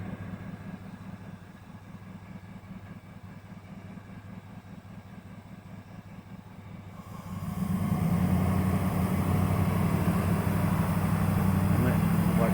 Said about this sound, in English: so right now it's just idling. I'm letting it heat up a little bit.